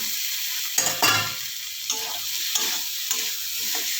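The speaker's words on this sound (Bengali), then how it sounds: "মশলা ভাজা হয়ে গেছে, তেল ছেড়ে গেছে, এরপর আলুগুলো দিয়ে দেব" Spices and potatoes frying in oil in a pan, with several scraping stirs over a steady, bright sizzle.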